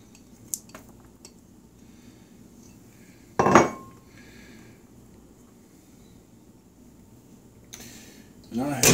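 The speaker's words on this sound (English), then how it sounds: "I'm going to stir this up real good" Metal utensil clanks and scrapes against a pot while chicken spaghetti is stirred, a sharp clatter burst in the middle and another at the end, with quiet kitchen background between.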